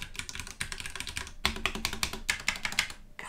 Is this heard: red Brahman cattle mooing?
no